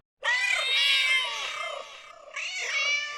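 A person imitates a cat's meow, a long drawn-out call followed by a shorter second one, loud and close.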